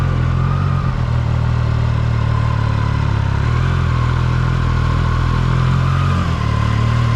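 Triumph Daytona 660 motorcycle engine running steadily on a first ride, a loud, continuous smooth drone with a strong low hum and wind rush, held alone without talk.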